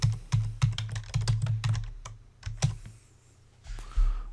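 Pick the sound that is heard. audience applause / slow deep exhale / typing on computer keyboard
typing on computer keyboard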